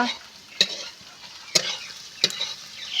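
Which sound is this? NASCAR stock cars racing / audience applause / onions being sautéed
onions being sautéed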